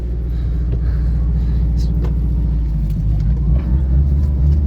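A Mini's engine runs at a steady low rumble up close while the car manoeuvres slowly in reverse. The tone stays constant with only slight changes and no talking.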